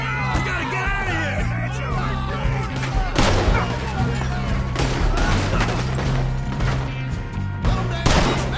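Heavy gunfire rings out in Red Dead Redemption, a dense fusillade of sharp shots and booms mixed with yelling and game dialogue over a continuous low drone.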